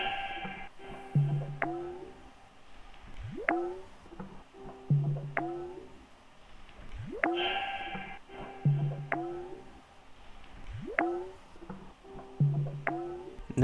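Layered soulful sample built in FL Studio from a reversed bell and a delayed bell, repeating in a slow loop of swelling reversed tones and struck bell hits with echoing repeats, loud and alone.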